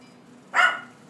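A single short dog bark or yip from a puppy indoors, loud and close, standing alone against a quiet room.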